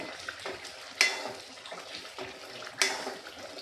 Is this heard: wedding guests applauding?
no